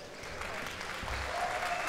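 A large arena crowd at a Dota 2 tournament, The International, applauds and cheers in a steady, dense roar that holds for the whole moment.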